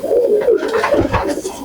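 Multicoloured pigeons at a pigeon market in Pune cooing close by, a continuous low throaty rolling coo filling the short clip with no talk.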